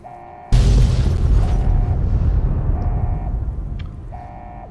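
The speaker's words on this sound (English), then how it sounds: "Explosions every 5 milliseconds." A burst of rocket explosions in Fallout: New Vegas, starting with a loud sudden boom and then a dense, continuous roar of blasts that slowly fades, with a recurring tonal beep behind it.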